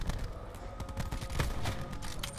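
Rapid bursts of gunfire crackle from a gun in the shooter Black Ops 4, a dense run of close, sharp shots over about two seconds with almost no voice.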